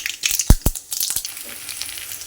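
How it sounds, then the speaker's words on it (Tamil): Onions, chillies and curry leaves hit hot sesame oil already holding mustard and fenugreek seeds, giving a few sharp, loud crackles and pops up front before settling into a lighter, steady sizzle close by. "வெங்காயம் மிளகாலாம் சேர்த்துட்டேன்."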